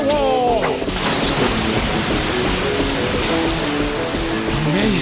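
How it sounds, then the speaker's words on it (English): Anime water style water wall jutsu effect from Naruto during a Hokage battle: a loud, dense rushing-water roar like a crashing wave, with shouted voices and whooshing tonal effects layered over it. "Water style, water wall!"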